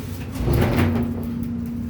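Hydraulic elevator doors sliding shut at Penn Station's Garden State elevator to Tracks 9 and 10, a steady low hum with a swelling rumble of door movement midway, nearby and moderately loud.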